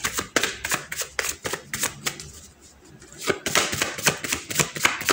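Tarot cards are handled and shuffled up close, a rapid run of crisp slaps and riffles that pauses briefly, then resumes in quick, lively bursts.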